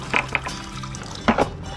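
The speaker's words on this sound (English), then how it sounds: "pour that out here" Water poured out during a well pump bottom valve replacement, brief splashy gurgles in two short bursts, fairly faint and close.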